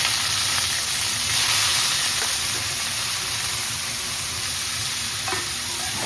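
Vegetables stir-fry on a high flame in a pan with ginger and chilli, a steady loud sizzle with scraping stirs and no talking.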